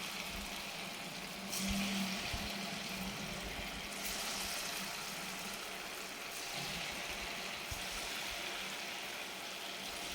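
A second batch of crispy fasting bhaji for Navratri deep-fries in hot oil. It gives a steady, dense bubbling hiss throughout, with no one talking.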